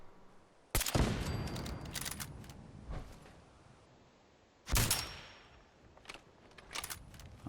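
Gunfire against turrets in the video game Fallout 4 comes as two loud, sharp bursts of rapid shots, the second about four seconds after the first, followed by a few scattered quieter shots.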